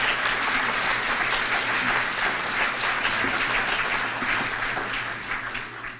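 A large audience at a senator's 20th anniversary event breaks into sustained applause, thick and even, easing slightly toward the end.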